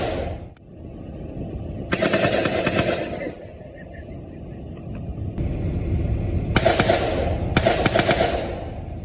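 Distant bursts of rapid gunfire crackle in clusters over a steady rumbling background at a festival, with quieter gaps between volleys.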